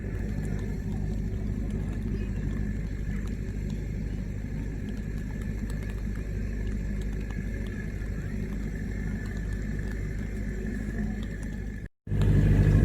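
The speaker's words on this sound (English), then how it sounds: "if you can hear me over the generators they've got out here" Generators at an outdoor light festival give off a continuous low, rumbling drone that stays steady and fairly loud, with a short dropout near the end.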